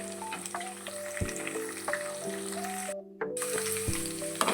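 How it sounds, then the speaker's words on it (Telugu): Peanuts and chana dal frying in a pan for pulihora, a steady sizzle with stirring scrapes and a short dropout near the three-second mark, with no voices. "ఇదిగో ఇప్పుడు మనం చూపించినవన్నీ అందులో బాగా ఫ్రై చేసుకుందాం."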